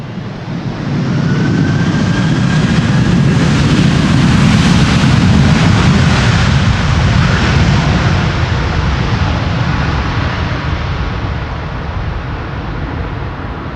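An airliner lands in a crosswind on the Polderbaan runway 18R at Amsterdam Schiphol, a loud, broad, sustained roar that swells after the first second, holds steady, then slowly eases off.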